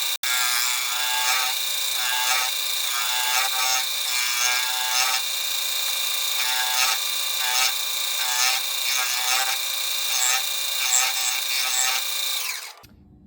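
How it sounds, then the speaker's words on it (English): An angle grinder works steadily on the torch-cut steel blade of a Case 850B dozer. It gives a loud, constant high whine for about twelve seconds before it cuts off suddenly. "I'll probably hit it with the grinder, smooth it out"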